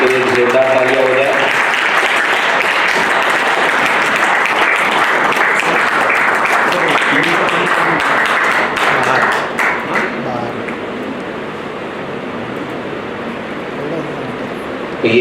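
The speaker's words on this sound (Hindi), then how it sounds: "इसके लिए जोरदार तालियां हो जाए।" Audience applause at an award ceremony as presenters are called to the stage: loud, dense clapping sustained for about ten seconds, then fading to a softer scatter of claps.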